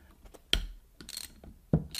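Ratchet wrench working a 10 mm bolt on the starter of a 2012 Yamaha G29 gas golf cart, a few sharp clicking pulls with brief mechanical ratcheting between them, close up with no talking.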